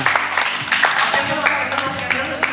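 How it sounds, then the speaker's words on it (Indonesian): Guests at a birthday party break into scattered clapping, with voices chattering and calling out over the rhythmic hand claps throughout. "Sekali lagi tepuk tangan semuanya."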